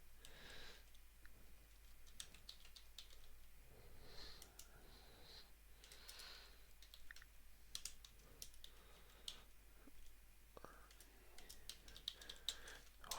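Quiet, steady typing on a computer keyboard while writing C# code, with a continuous patter of close keystrokes and a few sharper clicks, alone without speech.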